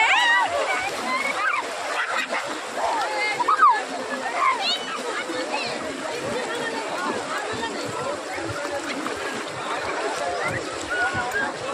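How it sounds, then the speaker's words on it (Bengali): Sea waves wash and splash onto the sand at Udaipur beach near Digha, a steady broadband surge close by, with several voices chattering over the water throughout. "ঢেউ আসছে।"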